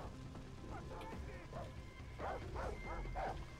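Dogs in the video game Far Cry 3 bark and yip in a quick run of sharp, fairly close barks, clustered toward the end over a low background rumble.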